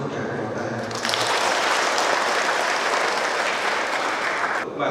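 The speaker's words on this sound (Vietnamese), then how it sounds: "Xin cho một tràng vỗ tay." A church congregation gives a sustained round of applause at a thanksgiving Mass for a nun's final vows, steady dense clapping that fills the space for several seconds before tapering off.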